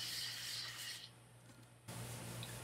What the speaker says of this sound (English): I'm going to sand the gesso that I just put on and smooth out that coating of gesso